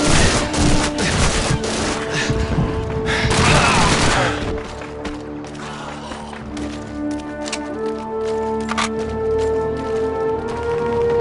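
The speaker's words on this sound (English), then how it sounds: "One grenade coming up!" A grenade blast amid a Call of Duty 2 battle, with heavy gunfire and explosions crashing loudly at first, then easing into rumbling ambient combat noise and scattered shots.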